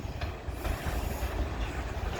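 A train rumbles past close by, a continuous heavy roar with low wheel noise and a faint high squeal, steady throughout and without voices.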